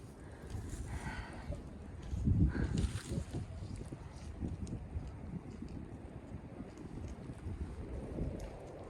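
Wind gusts on an exposed Appalachian Trail mountainside near Hawk Mountain Shelter in March, a steady broadband rush with a stronger surge partway through, buffeting the microphone and sounding like air through trees.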